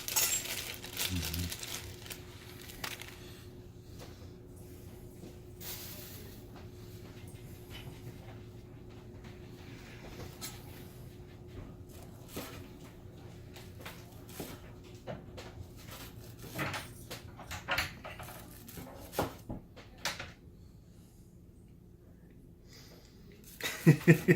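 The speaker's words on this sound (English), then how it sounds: "I'm going to cut those up pretty small as well." Knife cutting enoki mushrooms small on a board, a series of soft irregular taps and chops with rustling, mostly faint and close, ending in a few louder knocks.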